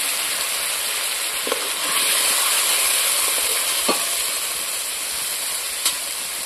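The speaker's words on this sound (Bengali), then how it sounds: "এক চামচ হলুদ দিয়ে ভালো করে আমি মশলাটাকে ভেজে নেব।" Spices with a spoon of turmeric sizzle loudly in a pan in a village kitchen, a steady hiss of frying with a few soft scrapes of stirring and no talk.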